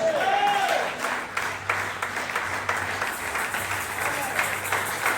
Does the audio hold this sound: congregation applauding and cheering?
yes